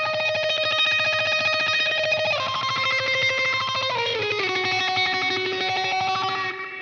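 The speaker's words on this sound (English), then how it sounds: "I also have the MXR Phase 90 still on and the delay pedal on as well." A sustained, heavily processed electric guitar line through an MXR Phase 90 and a delay pedal, swirling phase and echoing repeats, notes gliding downward in steps, playing loudly without any voices.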